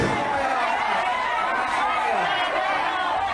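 A crowd at a crowded COVID-19 vaccination site shouts and clamours continuously, a dense wall of overlapping voices with some nearer speech standing out within it.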